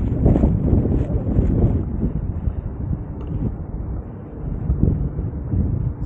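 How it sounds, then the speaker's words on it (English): Strong wind buffets the microphone aboard a boat in Qatar, a loud continuous low rumble with gusts that swell and ease, no voices over it. "This wind is too much."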